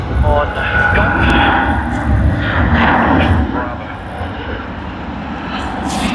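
Airliner engine roar at Sydney Airport during the early afternoon departure peak, a loud, steady broadband rumble that holds for several seconds before easing slightly, with faint speech in the background.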